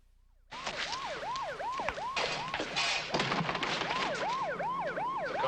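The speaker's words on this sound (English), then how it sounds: "The cops siren. It sounds like it's coming down the street." A wailing siren rises and falls repeatedly, loud and continuous, with street noise and a few thumps underneath.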